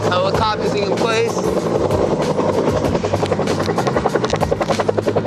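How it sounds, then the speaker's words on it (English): A helicopter drones loudly and close, its rotor chopping in a steady rhythm, with wind buffeting the microphone and a brief voice at the start. "Helicopter's in place."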